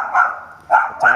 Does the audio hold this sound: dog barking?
yes